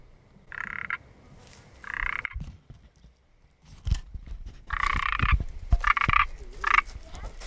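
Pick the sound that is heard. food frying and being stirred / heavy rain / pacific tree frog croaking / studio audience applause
pacific tree frog croaking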